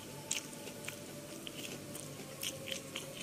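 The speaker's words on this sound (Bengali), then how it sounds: "কষ্ট করে হলেও আমি থানকুনির পাতাটা খাচ্ছি।" Raw thankuni (Asiatic pennywort) leaves are chewed up close, with soft irregular crunches and wet bites scattered over a quiet background hum.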